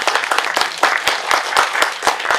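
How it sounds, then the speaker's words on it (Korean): An audience at a lecture applauds the instructor, a brief, moderately loud round of overlapping handclaps that stays fairly even throughout. "박수 한번 부탁드릴게요"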